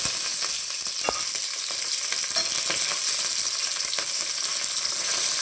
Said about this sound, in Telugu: జీలకర్ర వేసుకుందాం, ఎల్లిపాయలు, ఎండుమిర్చి, కరివేపాకు